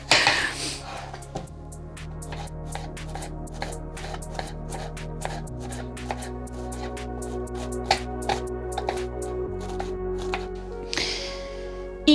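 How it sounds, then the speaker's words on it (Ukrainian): Rapid, regular knife taps dicing onion against a cutting board, a steady chopping rhythm that carries on throughout over a low background hum. "Наступним кроком я нарізаю цибулю теж на дрібні кубики."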